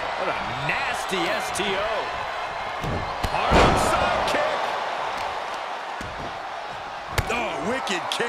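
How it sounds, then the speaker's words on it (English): Heavy slam impacts land in the WWE 2K23 wrestling video game, with Johnny Gargano in a simulated Backlash match, a loud thud rising over constant crowd noise while a commentator talks throughout. "Shot after shot, then slamming their face down."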